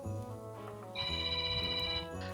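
A telephone rings once, a bright electronic trill lasting about a second over soft background noise indoors.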